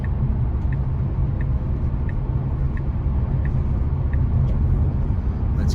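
A car cruises along the I-70 interstate in Kansas on dry pavement, heard from inside as a constant low road rumble and tire drone with faint periodic ticks, no one speaking.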